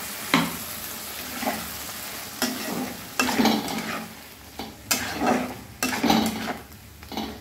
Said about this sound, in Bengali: কিছুক্ষণ মশলার সঙ্গে আমি ভালোভাবে কষে নেব।